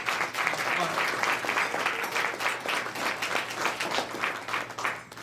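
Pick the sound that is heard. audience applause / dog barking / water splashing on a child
audience applause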